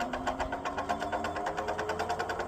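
A small engine on a garden wood chipper runs with a fast, steady pulsing chug, loud and close, with no talk over it.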